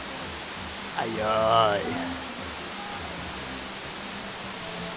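At the falls in Saint-Vincent, a steady broadband rush of water runs throughout, and a voice briefly exclaims over it near the start.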